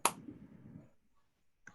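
During a tepuk nyamuk clapping game in a classroom, one sharp, close hand clap rings out. A soft murmur follows, then a fainter second clap comes near the end.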